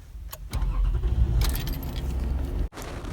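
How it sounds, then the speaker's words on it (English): Keys jangle, then the engine of a Toyota Sienna cranks and catches, settling into a steady, close idle with a brief dropout near the end. "There I have to start the car."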